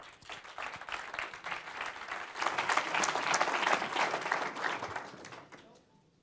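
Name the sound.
audience applause welcoming a presenter on stage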